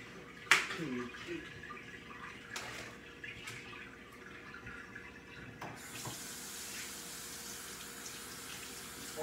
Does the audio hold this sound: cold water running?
yes